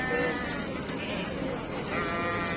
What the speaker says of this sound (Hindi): इस साइड पे जो भेड़ें खड़ी हुई ना इस भाई के पास, तो ये भी बहुत प्यारी भेड़ें खड़ी हुई